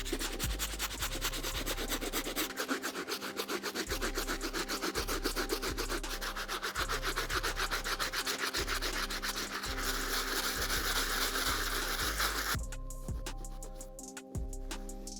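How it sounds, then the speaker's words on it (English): A stiff brush scrubs the dirty outsole of a Jordan 4 sneaker in a steady, rhythmic back-and-forth rasping that runs close and continuous for most of the stretch, then slows and fades near the end. "you wanna scrub in all different directions to make sure you get all that dirt and gunk out"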